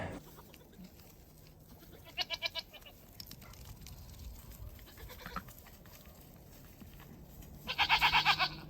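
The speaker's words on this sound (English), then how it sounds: "I think it's gonna be a noisy day in the homestead today between the goats and the logging" Goats on a homestead bleat in two short bursts of quavering calls, the second louder and longer, over a low, quiet outdoor background.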